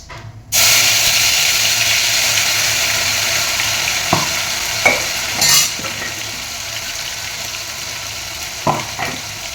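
Ginger, chili and garlic paste drops into hot oil in a pan and sets off a loud, steady sizzle that carries on throughout, with a few soft stirring knocks and scrapes.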